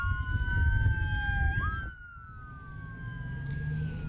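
Ambulance siren from an emergency vehicle carrying patients across the border to a Texas hospital, wailing tones that rise and fall over traffic rumble, fairly loud and close.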